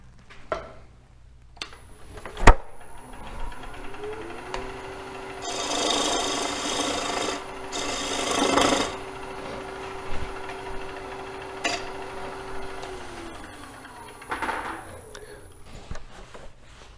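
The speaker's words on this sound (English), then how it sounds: "The gouge gets hot, and the chips are hot coming off this dry wood." A wood-turning gouge cuts a dry wood bowl spinning on a lathe: two loud rasping bursts of shaving over a steady motor whine, with scattered knocks and quieter scraping between cuts.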